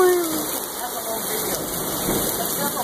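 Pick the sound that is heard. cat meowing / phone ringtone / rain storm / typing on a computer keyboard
rain storm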